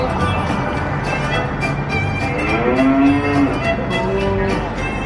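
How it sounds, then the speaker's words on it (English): A dairy cow moos loudly and close by, one long drawn-out low call rising over steady background crowd noise and rumble at a farm-themed event. "Oh, Michael's got a dairy cow with him"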